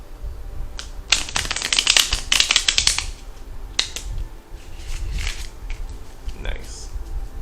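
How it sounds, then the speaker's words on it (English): A burst of rapid crisp tarot card riffles and slaps, then a few scattered flicks and shuffles at close range with some quiet background sound. "Let's do some more shuffles."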